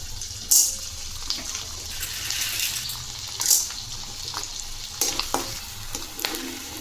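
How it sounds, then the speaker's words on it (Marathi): Edible gum crackles and sizzles in hot ghee for winter laddoos, a steady close frying sound punctuated by stirring scrapes and a few sharper pops. "त्यामध्ये मी पहिल्यांदा डिंक फ्राय करून घेते."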